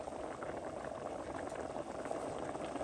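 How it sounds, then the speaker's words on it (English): Water and rice bubble at a rolling boil in a pot on the stove, a steady dense seething and popping that holds throughout, with no talk over it. "Now you're going to let that boil. See, it's rolling boil again"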